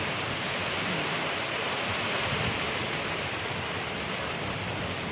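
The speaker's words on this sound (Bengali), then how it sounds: "এত জোরে বৃষ্টি আছে" Heavy rain in the Sundarbans pours down in a dense, unbroken roar, loud and close, with no other sounds above it.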